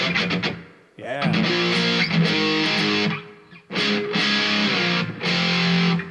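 A heavily distorted electric guitar played through a distortion pedal turned all the way up plays loud, sustained chords with short gaps between strums, a thick buzzing tone ringing out.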